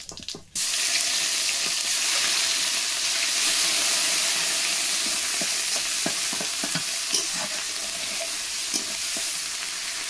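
Onion paste fries in oil with cumin seeds and bay leaf for a Bengali prawn malaikari, making a loud, continuous close-up sizzle after a brief start, with scattered crackles and soft stirring clicks.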